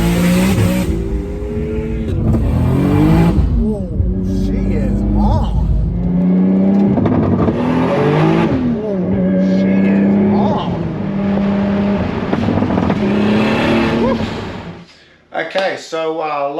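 A car engine set up with rolling launch control revs loud and close in repeated rising and falling sweeps, then drops out suddenly near the end, leaving a few sharp clicks.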